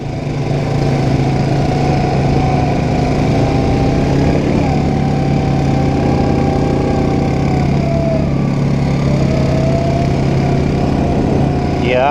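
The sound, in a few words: Polaris 570 ProStar side-by-side engine running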